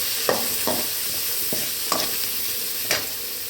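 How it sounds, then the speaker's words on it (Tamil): Onions and curry leaves fry in hot oil for a mutton gravy, a steady sizzle broken by a few sharp stirring scrapes spaced about a second apart, with no voices. "அதில் வெங்காயம், கருவேப்பிலை போட்டுக்கலாம்."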